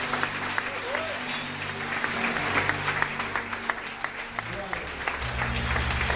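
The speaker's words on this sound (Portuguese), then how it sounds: "Dá uma linda salva de palmas a Jesus." A church congregation applauds during worship, thick sustained clapping from many hands over low music, with voices calling out beneath the applause.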